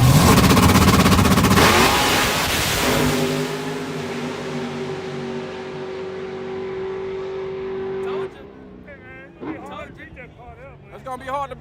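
A street-legal Mustang roars through a full drag racing pass, its engine loud and sustained at first, then fading steadily into the distance as crowd voices and chatter rise near the end.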